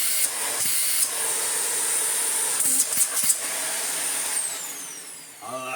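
A restored Dyson UP22 upright vacuum runs with its hose detached, giving a loud, steady rushing hiss with a high whine on top and a few brief bumps and dips in the airflow.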